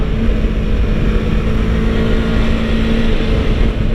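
A 2015 Yamaha R3 motorcycle engine hums steadily while the bike is ridden, a continuous near drone with wind rush and no pauses for the whole stretch.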